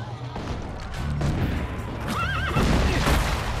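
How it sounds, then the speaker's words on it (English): A horse neighs in the video game Assassin's Creed Brotherhood. A clear, wavering whinny rises over the game's rumbling background of battle and hooves. A brief voice can be heard near the start. "Go, horsey, go."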